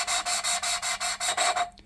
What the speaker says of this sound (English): What this is doing is actually grinding away the metal. It's sanding the metal for the seat.